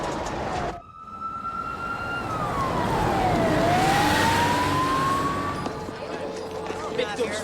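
A siren on Engine 27, a fire engine responding to a call, wails up and down loudly and close by over traffic rumble, with people talking underneath.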